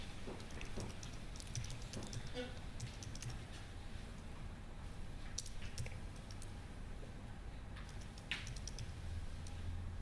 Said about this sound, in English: Sorry, my typing is not the best.